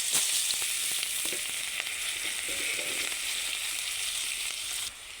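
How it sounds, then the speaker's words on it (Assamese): Onions sizzle steadily in hot oil, a continuous bright crackling hiss with occasional small pops, fairly quiet and with no voices. "তেল গৰম হৈ গ'ল আৰু মই পিঁয়াজখিনি দি দিছোঁ"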